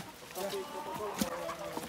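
Chickens newly delivered for slaughter clucking in a backyard coop, repeated soft clucks and short calls close by, with people talking in the background.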